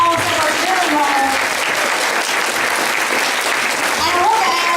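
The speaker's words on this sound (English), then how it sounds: "Give them one more round of applause." Sustained applause from a school play audience honoring the young performers, dense steady clapping filling the room from start to finish with some crowd noise mixed in.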